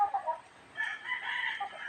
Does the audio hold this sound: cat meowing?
no